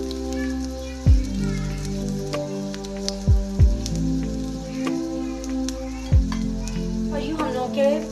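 Curry leaves crackle and sizzle as they drop into hot oil for a tadka for lauki raita, a steady frying hiss broken by several sharp spits and pops, close and fairly loud with no voices.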